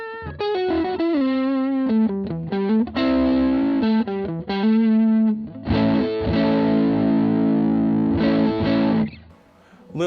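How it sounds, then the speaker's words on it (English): An electric guitar on its neck pickup plays through a distorted amp: thick, sustained overdriven notes and chords, loud and close, moving from single-note lines into fuller ringing chords before fading. "I'm just going to play the neck pickup for a while and see what I think overall."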